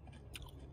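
A raw European gooseberry is chewed with its skin on, giving a short, faint, moist crunch with a couple of quick bites close to the mouth and no talking.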